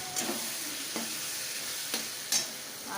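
Spice paste and tomato for mutton curry sizzling gently over low heat in a pan, with a few soft scrapes of a spoon stirring through the mix, quiet and close.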